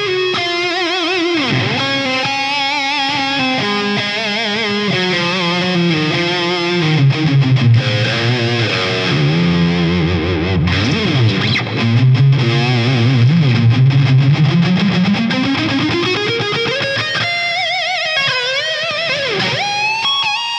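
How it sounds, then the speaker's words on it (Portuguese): Jackson RR electric guitar played through a 5150III amp on its dirty channel with a Cerberus overdrive boost and reverb, a sustained distorted solo line with bends and glides, loud and steady throughout with no talking. "aqui eu estou dando um boost de overdrive com um reverb do Cerberus no loop de efeito"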